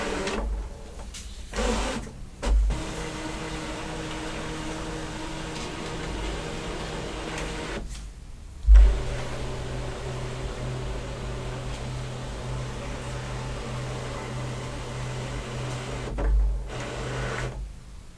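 A Brother ScanNCut craft machine runs a scan, giving a steady, close mechanical whir with a constant hum, broken by a few short gaps and soft clicks over about eighteen seconds, with no talking.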